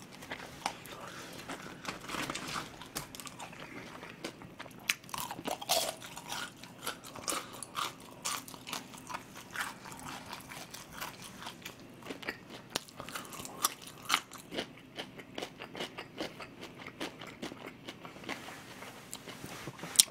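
Someone eats fried chicken that is slightly less crispy than usual, producing close, faint crunches and chewing noises at irregular moments throughout, with a few sharper bites standing out against a quiet room.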